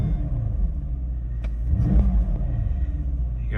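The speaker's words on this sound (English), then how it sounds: "We're gonna go ahead and start this thing up." A Mercedes-Benz SL 550 roadster's engine starts and settles into a steady, deep, close rumble with a slight swell partway through.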